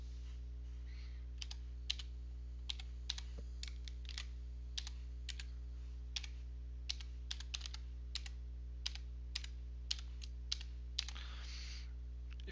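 Typing on a computer keyboard: sparse, irregular clicks of individual keys over a low steady electrical hum, faint and close, with a brief flurry near the end.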